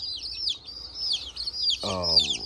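A chorus of high, thin peeps from mixed-breed chicks chirping continuously, with a short low voice breaking in near the end.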